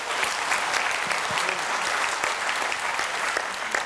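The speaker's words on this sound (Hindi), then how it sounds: "एक बार इनके लिए ज़ोरदार ताली बजाओ" A large crowd at a Swadeshi gathering in Bhubaneswar, Odisha, applauds loudly and continuously, a dense, even wash of clapping from start to finish.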